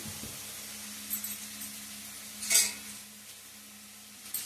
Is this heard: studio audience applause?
no